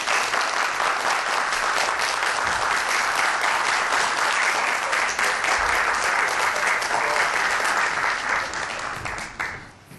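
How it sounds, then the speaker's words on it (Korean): Lecture audience welcomes a battery-company vice president with sustained, full applause, many hands clapping steadily and loudly before the sound tapers off at the end. "박수 부탁드립니다."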